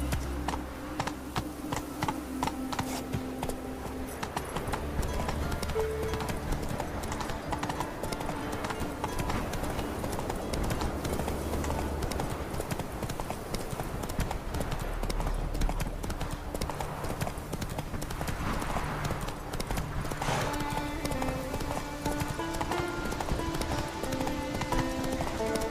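Rhythmic clip-clop of a horse galloping in the Witcher 3 video game, steady hoofbeats throughout with game music and ambient effects underneath.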